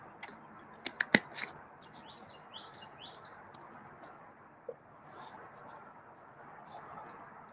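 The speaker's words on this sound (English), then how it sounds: "the birds are noisy and loud" Small birds chirp outdoors in the morning, scattered sharp tweets over a low, faint background hiss, with a few louder calls near the start.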